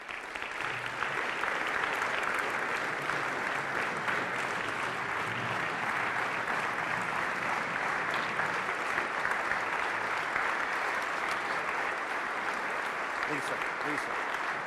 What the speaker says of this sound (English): I would ask you to join me in giving a round of applause